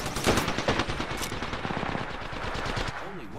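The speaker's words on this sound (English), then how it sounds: "Opening fire." Rapid automatic gunfire from a squad-based battle royale video game, loud and sustained in dense bursts across the clip, with no speech over it.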